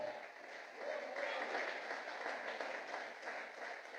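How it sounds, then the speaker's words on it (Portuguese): A church congregation applauds during a sermon, with soft, steady clapping heard at a moderate distance and faint voices mixed in. "Podem aplaudir o Senhor."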